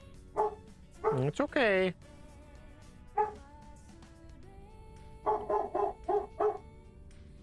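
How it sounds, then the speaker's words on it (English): A dog barks in short bursts with whimpering yips: a single bark, then a rising howl-like cry, another bark, and finally a quick run of five or six barks. A person speaks softly in between. "That's his big boy bark."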